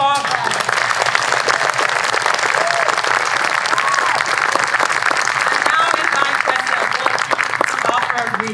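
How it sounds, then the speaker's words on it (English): A large audience applauds graduates at a Stetson Law spring commencement, steady dense clapping filling the whole stretch with crowd murmur and whistles mixed in. "Please, let's give another round of applause for our graduates."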